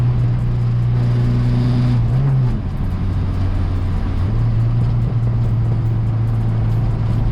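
Turbocharged Honda Integra DC2 with a B18C engine pulling hard under acceleration, a loud steady engine drone with a brief pitch dip near the two-second mark before it climbs again, heard from inside the car without talk.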